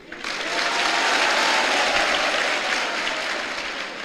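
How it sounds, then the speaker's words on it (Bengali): Loud, sustained applause from an audience at a spiritual discourse, a dense crowd of clapping that swells in quickly and holds steady for several seconds before easing slightly. "একটা জোরে হাততালি।"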